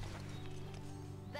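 Galloping horse in the Barbie Horse Adventures video game, a steady game-audio hoofbeat layered over a constant hum and background music, with a voice briefly speaking.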